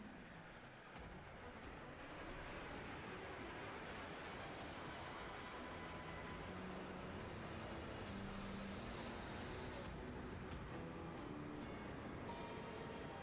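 Train rumbling steadily in the video game Lost Odyssey, a dense continuous roar of wheels and carriages with faint high squeals, sustained and fairly close throughout.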